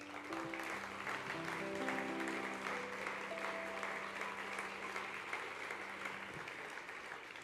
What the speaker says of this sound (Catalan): Aquest aplaudiment és per tu.